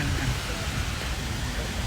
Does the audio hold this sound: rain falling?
yes